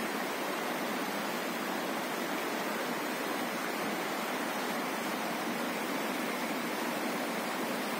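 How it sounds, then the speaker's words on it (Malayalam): Forceful water rushes through a canal sluice in a loud, continuous, even roar that holds steady from start to finish with no pauses or other sounds. "കനാലിലോട്ട് വെള്ളം പോകുന്ന വഴിയാണ്. നല്ല ഫോഴ്സാണ് വെള്ളത്തിന്."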